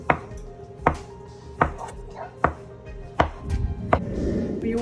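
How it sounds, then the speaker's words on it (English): A knife chops through rolled, floured homemade noodle dough on a board, six sharp evenly spaced thuds about a second apart, close and clear with faint rustling between strokes. "And then you chop these."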